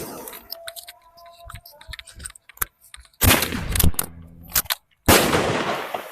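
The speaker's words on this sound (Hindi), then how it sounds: "अब इस 50 रुपये वाले स्काई शॉट में आग लगाते हैं।" A 50-rupee sky shot Diwali firework is lit and goes off, with small crackles and clicks during ignition, then two loud, near bursts of broadband explosion with a brief gap between them, no voices.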